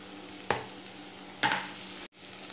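Cabbage and capsicum stir-fry over high flame for Schezwan veg Hakka noodles, giving a soft continuous sizzle with two sharp tossing scrapes, then a brief cut-off before the frying resumes, close and moderately quiet.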